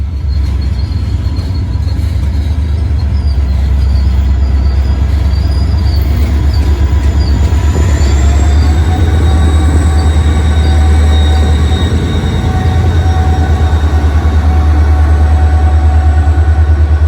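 An SD40-2 locomotive and its train rolling over railroad diamonds, giving a loud continuous low rumble close by with steady rail clatter and faint metallic wheel squeal rising partway through, with no voices.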